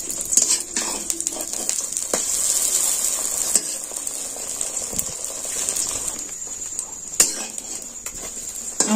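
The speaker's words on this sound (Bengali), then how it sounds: "এবার আমি এই ডিমটা ভেজে নিচ্ছি।" Egg frying in oil in a kadai, a steady bright sizzle running throughout with occasional pops and clinks of a utensil, close and fairly loud.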